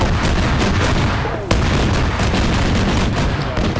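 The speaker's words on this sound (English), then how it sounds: "Gunner is returning fire." Armored vehicle gunfire rattles through a video game battle between a BMD and a BMP-2, a loud sustained barrage of rapid shots with a sharp burst near the middle and no talk.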